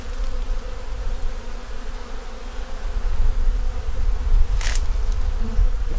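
Honey bees at an open hive fill the air with a loud, steady buzzing that swells slightly louder midway, close to the listener, with a brief sharper rustle near the end.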